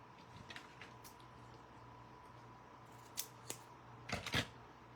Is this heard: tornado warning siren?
no